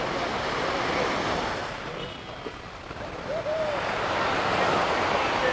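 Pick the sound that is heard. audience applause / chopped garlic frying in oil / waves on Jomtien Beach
waves on Jomtien Beach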